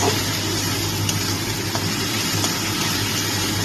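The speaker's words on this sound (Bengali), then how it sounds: "মশলাটাকে আমি এইভাবে অনেকক্ষণ ধরে কষিয়ে নিচ্ছি" Masala spice paste sautéing in a pan for a gathi kochu and potato curry, a steady dense sizzle with faint stirring scrapes, close and continuous, with no talk.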